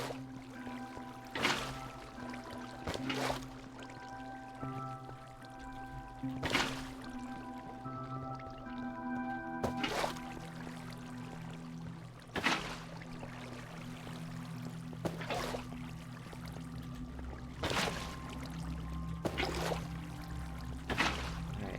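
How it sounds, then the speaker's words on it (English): Water streams steadily from an infinite water source in Minecraft Sky Factory 4, a continuous soft trickle and pour running throughout, broken by periodic sharp clicks and block sounds, with no talking. "Water's flowing how we want it to."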